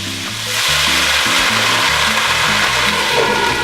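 Pork chops with onion sizzle and fry loudly in a pan as vinegar is added, a steady crackling hiss throughout with some low rumbling underneath and no talking.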